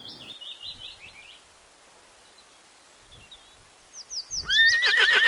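A horse whinnies loudly close by near the end, after a softer, higher whinny at the start, with faint rustling and light background noise between the calls.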